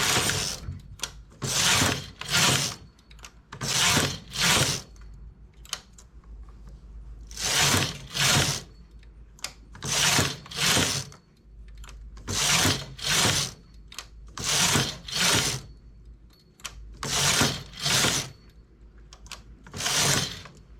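A domestic knitting machine working lozenge patterns in a quiet room, its carriage sliding across the needle bed in regular loud, clattering, ratcheting passes separated by short pauses, close up and alone with no voices.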